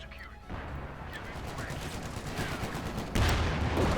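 .50 caliber machine guns fire high-explosive rounds amid a Company of Heroes 2 battle, with dense bursts and rattling gunfire over a constant roar of combat that swells louder near the end.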